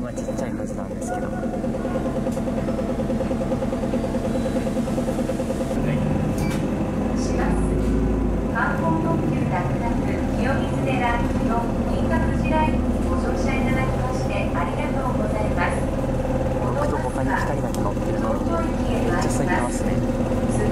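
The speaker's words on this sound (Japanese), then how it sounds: "This is the Kyoto City Bus Wraparound Limited Express" Interior of a Kyoto City Bus limited express on the move, a steady low engine and road rumble filling the cabin throughout while a voice talks over it.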